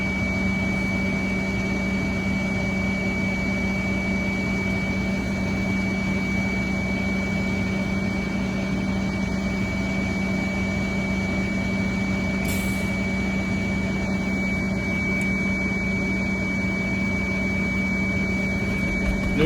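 A Caterpillar 3116 diesel engine in a fleet truck idles steadily after a cold start, a constant low drone with a fixed hum and no voices.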